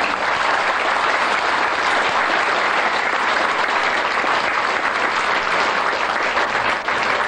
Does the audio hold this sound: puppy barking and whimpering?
no